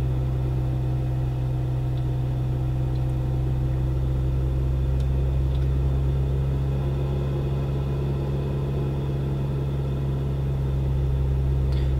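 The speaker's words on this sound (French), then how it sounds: "on va s'assurer d'avoir un ralenti supérieur à 2000 tours minute" A car engine holds a high idle above 2000 rpm during an alternator test with a GYS BTW 300 battery tester. It gives a steady, even mechanical hum and drone that runs unbroken throughout.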